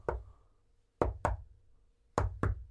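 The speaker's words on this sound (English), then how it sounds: "on the barrel they give it the secret knock, OK? And the secret knock goes like this." A secret-knock rhythm is rapped on a barrel: one knock, a pause, two quick knocks, another pause, then a final pair. The hollow, close knocks are clear against near silence.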